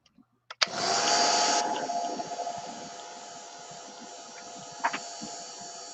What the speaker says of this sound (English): I'll hit that with a heat tool